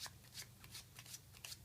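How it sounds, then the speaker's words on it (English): Quick, rhythmic riffles of playing cards being shuffled up close, a series of short crisp bursts in steady succession. "We're gonna use the top 10 cards and shuffle them up."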